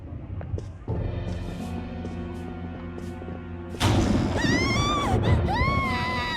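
A harsh scream rings out in Persona 5, arriving after a low sustained droning passage and rising abruptly into loud, sweeping shrieking cries with bangs and clatter underneath.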